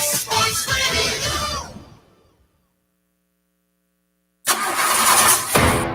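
Car engine cranking without firing, a loud rough rhythmic churning that fades out, then near-silence with a faint hum, before a second burst of cranking at the end.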